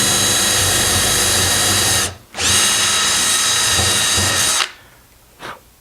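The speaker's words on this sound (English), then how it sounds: "I'm going to drill a hole about like this to hold this in place." A loud power drill whines steadily while drilling a hole in wood, briefly stops, then runs again for a couple of seconds before cutting out, followed by a faint short knock.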